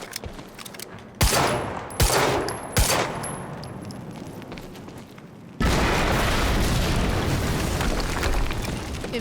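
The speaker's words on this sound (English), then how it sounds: "we just heard an explosion" Explosions in the video game Quantum Break: several sharp, heavy booms in quick succession, followed by a sustained roaring rumble of blast noise, with no talking.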